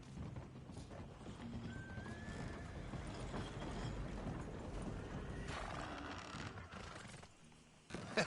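In the Western video game Red Dead Redemption 2, a horse gives a brief whinny amid steady clip-clopping hooves and quiet outdoor ambience, ending with a few sharper knocks.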